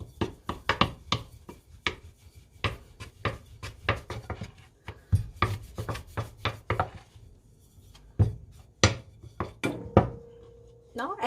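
A rolling pin works flour-dusted dough on a board for a Chinese chive-egg pie, giving close, irregular knocks and sharp taps with brief rubbing between them.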